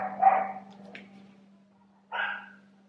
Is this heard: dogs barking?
yes